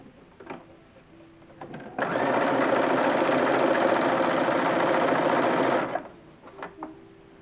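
A sewing machine runs in one continuous burst of about four seconds, stitching piping onto a mid-19th-century bodice, loud and close with a fast steady whir, quiet handling before and after.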